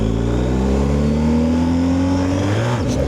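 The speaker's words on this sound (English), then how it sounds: "Accelerate and pull the clutch in at the same time like a moron." A car engine is revved hard while the clutch is held in, the pitch rising steadily then dropping sharply near the end; loud and close, with no talk.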